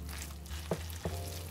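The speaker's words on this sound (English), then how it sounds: "I'm going to go ahead and stir up those things a little bit before we add our sauce in" Sautéed mushroom and onion in a pan sizzle steadily while a utensil stirs through them, with two distinct scraping knocks against the pan partway through, close and continuous.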